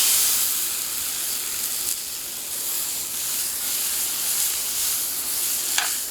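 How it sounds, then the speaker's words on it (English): Beef Wellington searing in a hot pan gives a steady, close sizzling hiss that runs unbroken throughout, with a brief sharper crackle near the end. "Just ready to sear the Wellington."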